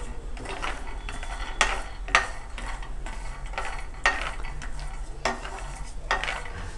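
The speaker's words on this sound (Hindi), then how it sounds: "तो तवे पर मैं सबसे पहले मूंगफली डालूँगी और इसे रोस्ट करके लूँगी।" Raw peanuts dry-roasting on a tawa over low heat while a spatula stirs them, giving repeated scraping and rattling strokes at an uneven rhythm over a steady soft hiss, close and moderately loud.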